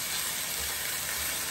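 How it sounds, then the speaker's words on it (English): Ginger and garlic toast in hot oil in a pan, giving a loud, steady, close sizzle that holds evenly for a second and a half with no talk over it. "You can smell the ginger and the garlic toasting in the oil."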